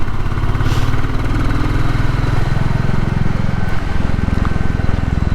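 Royal Enfield Classic 350 single-cylinder engine idling close by, a steady low thumping rumble that runs continuously without revving, with faint road ambience around it.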